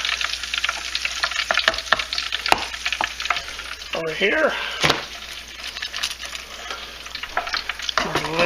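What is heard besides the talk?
McDonald's french fries frying in oil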